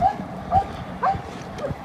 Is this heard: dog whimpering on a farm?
yes